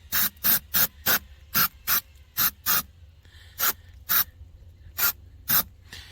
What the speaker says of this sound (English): now I'm going to spray up inside of here